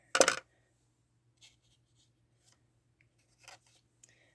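Paper being cut with scissors while making a Christmas window ornament with Tim Holtz dies: one sharp close snip, then a few faint scattered rustles and clicks in an otherwise quiet room.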